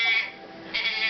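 Sheep bleat in two short, wavering cries, moderately loud and close, in a family Nativity play scene with shepherds at a campfire.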